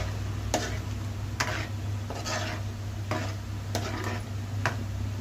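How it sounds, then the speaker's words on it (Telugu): Paneer kurma is stirred in a pan: a spoon scrapes in a steady rhythm of about six strokes under a low hum of the stove. "ఒకసారి కలుపునా."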